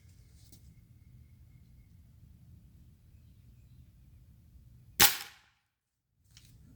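A single sharp crack from an air rifle firing a pellet into weathered wood left outside for months, shot from about ten feet, loud and abrupt against a quiet outdoor background with faint hum.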